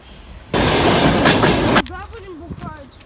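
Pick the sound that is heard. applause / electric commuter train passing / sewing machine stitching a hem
electric commuter train passing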